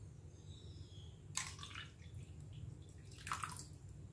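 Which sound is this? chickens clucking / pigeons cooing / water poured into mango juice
water poured into mango juice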